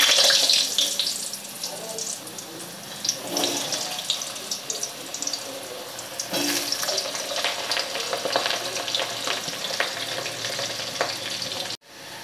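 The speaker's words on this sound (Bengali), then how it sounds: "ফোড়নগুলো একটু ভেজে নিয়ে দিয়ে দেব আলু" Potatoes tipped into hot oil over a bay leaf and cumin tempering hiss and sizzle loudly nearby, with bursts of stirring and crackle before an abrupt cut at the end.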